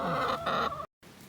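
A laying hen about a year and a half old clucks several times in quick succession, close by on a homestead in May, then falls briefly silent before faint outdoor ambience resumes.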